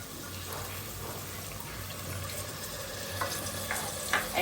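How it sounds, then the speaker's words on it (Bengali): Ginger garlic paste fries in a pan at home, a soft, low sizzle with occasional stirring scrapes and a few light clinks near the end, fairly faint, no talking. "আদা রসুনটা একদম ভাজা হয়ে গেছে"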